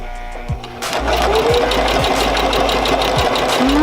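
A sewing machine stitching fabric starts up after a brief pause and then runs as a steady, close, loud mechanical whir with a rapid, even rhythm. No one speaks.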